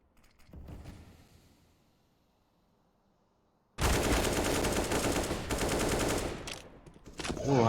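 Bursts of gunfire in a Counter-Strike match: a short quiet crackle of shots, then a pause, then a loud sustained volley of rapid gunshots lasting several seconds.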